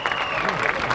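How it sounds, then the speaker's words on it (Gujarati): A brief burst of audience applause at a school event honoring children's work, hands clapping in a thick wash with a voice or tone running through it. "એકવાર જોરદાર તાળીઓના નાદથી આ બાળકોની મહેનતને વધાવીએ."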